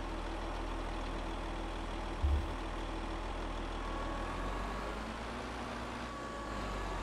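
A farm vehicle engine in Farming Simulator 22 idles at a steady, even low rumble throughout, with one brief thump partway through.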